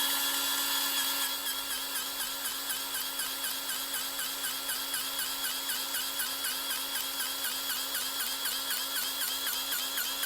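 A grease gun pumps grease into the track tensioner fitting of a V1000, producing a steady, high mechanical whir with regular rhythmic pulses throughout, close and fairly loud.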